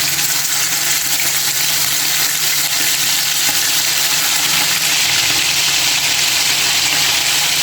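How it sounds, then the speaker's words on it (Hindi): Chicken pieces fry in a frying pan, a loud, dense, steady sizzle and hiss that fills the whole stretch without talk. "उस चिकन को हम फ्राई पैन में डाल देंगे।"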